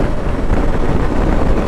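Heavy wind buffets the rider's helmet on a KTM 790 Adventure at highway speed, a loud continuous roaring rush with no gaps, close and overwhelming.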